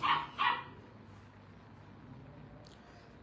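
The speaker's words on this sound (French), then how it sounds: "Oh, calme le chien là." A dog gives two quick barks close by at the very start, then a quiet room hum carries on with no further barking.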